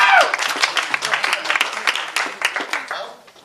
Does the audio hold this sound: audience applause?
yes